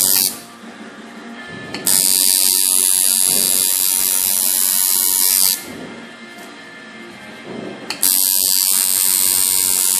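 A tattoo machine buzzes loudly and close while lining, running in long sustained bursts with brief quieter pauses between passes, and no talking.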